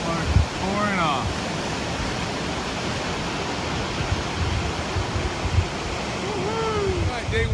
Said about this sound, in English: Water's pouring off.